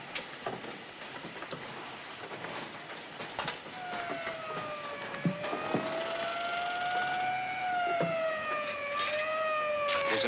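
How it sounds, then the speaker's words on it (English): An ambulance siren in 1940s London wails in rising and falling tones, growing steadier and louder as it approaches over a rumbling, clattering background. "There's an ambulance coming,"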